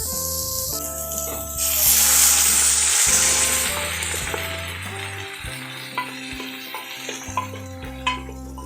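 Cooked dal goes into a hot mint-paste tempering in a pan, setting off a loud sizzle that swells and then settles. Stirring clinks and scrapes run under the frying, with no talking.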